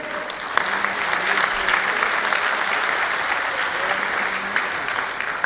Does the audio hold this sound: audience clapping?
yes